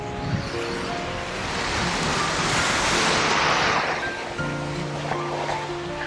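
Sea waves of the Persian Gulf wash onto the shore in a steady, loud surf wash that swells in the middle and eases slightly, with a faint wind over the water.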